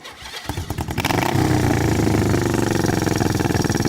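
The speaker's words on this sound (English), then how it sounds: "There she is running. You can hear that exhaust makes it sound nice and mean." A 1972 Honda CL350 motorcycle engine cranks with a few quick pulses, catches, and settles into a loud, throaty, steady idle nearby.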